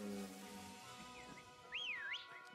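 Whistling from the Pokémon Sword video game, a short wavering whistle that rises and falls near the end over a dense, busy game music and sound bed.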